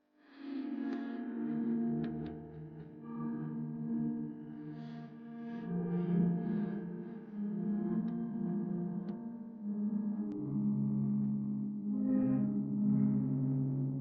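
An AI-generated song made with Music Creator AI plays on its own at low volume, with a heavily processed, echoing sung melody over sustained synth tones.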